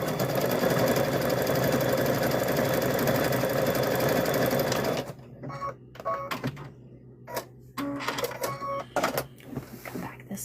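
Sewing machine stitching a heavy patchwork quilt, running in a steady loud whir for several seconds, then stopping and restarting in short bursts.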